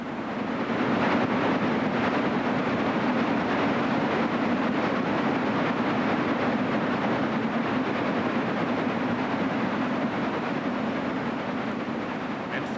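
Chesapeake and Ohio steam locomotive 614 hauling the eastbound George Washington passenger train near Roxborough, a steady loud rumbling roar of engine and cars rolling past, continuous with no pauses.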